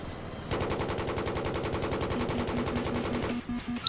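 Rapid automatic gunfire from Battlefield 3 hammers steadily for about three seconds in a fast, even burst, with a brief beeping tone near the end.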